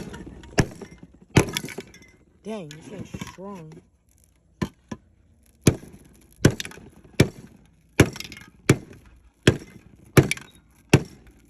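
Sharp repeated cutting and cracking strikes while cutting open an empty spray paint can, spaced irregularly and close, with a person speaking briefly and voiced exclamations between the hits.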